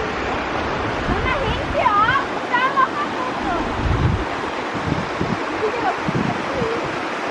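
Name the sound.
waterfall in the Weissensee valley, Stockenboi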